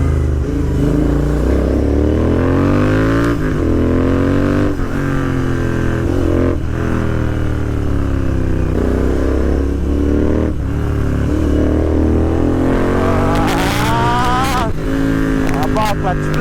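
A motorcycle with 30,000 km on it, a broken third gear and worn clutch plates, revs loudly nearby in repeated rising and falling surges, while a person talks over the engine.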